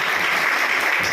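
An audience at a poetry recital in Ambah bursts into dense, steady clapping that fills the whole moment, loud and close with no voices over it.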